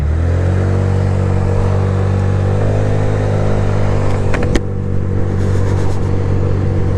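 An MGB Trieste 125 scooter, a 2025 classic-styled bike, accelerates steadily for about seven seconds up to 30 mph, its engine drone loud, close and continuous with a rising rev and no talking.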